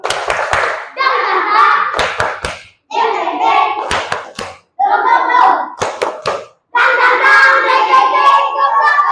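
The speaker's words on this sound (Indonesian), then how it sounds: "Kita tepuk semangat barunya, kita ulang lagi." A class chants the tepuk semangat baru clapping routine in a rhythmic pattern. Sharp, close group claps fall in short bursts between chanted phrases, with brief pauses between sections.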